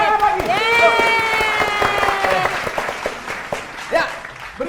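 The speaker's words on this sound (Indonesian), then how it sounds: "Tepuk tangan lagi." An audience at a quiz show claps in a busy burst of applause, loud and close, with a sustained musical tone over the start and the clapping thinning out toward the end.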